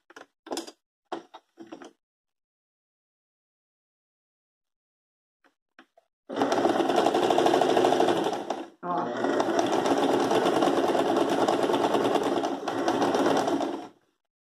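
Sewing machine stitching the middle of a round tablecloth being turned into a placemat: after a few faint knocks and handling sounds, two long, loud, steady bursts of motor whirring and needle clatter, close up with no talk.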